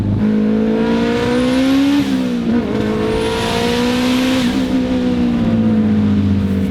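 A 500 hp all-wheel-drive Acura Integra with a turbocharged Honda K-Series engine accelerates hard, its loud, close engine tone climbing steadily with two brief dips at shifts and a faint turbo whistle above, no voices.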